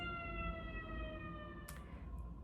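Sirens pass outside, heard faint and distant through walls as steady held wailing tones with slight pitch drift under a low room rumble.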